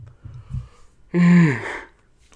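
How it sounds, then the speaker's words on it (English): A single long, loud yawn from a man, rising and then trailing off for about a second, with faint muffled talk just before it. "seriously sorry that I'm yawning so much"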